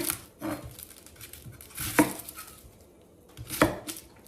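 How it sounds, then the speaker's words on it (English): A knife slices the ends off a white onion on a cutting board, landing three distinct, sharp chops spaced more than a second apart, with quiet pauses between. "So I just slice the ends off here."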